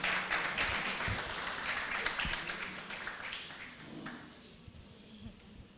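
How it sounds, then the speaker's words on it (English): Applause from the audience at a Lagos pharmacists' association event, a steady wash of clapping that starts loud and gradually fades out over several seconds, fairly distant. "A round of applause for them, please."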